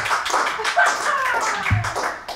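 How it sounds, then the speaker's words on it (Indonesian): A studio audience on a talk show claps briefly in a quick burst of hand claps, close and moderately loud, with voices and laughter mixed in. "Tepuk tangan lu dong"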